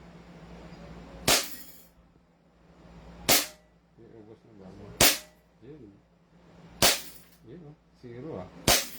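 A 5.1 2011 SRC Hi-Capa gun fires five sharp, loud shots at uneven intervals of roughly two seconds, close by, with people talking between the shots.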